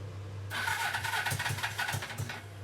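Suzuki GS450 motorcycle engine running with a stuck clutch, a low steady idle hum joined by a sudden burst of whirring mechanical noise with rhythmic clattering pulses, close by and fairly quiet.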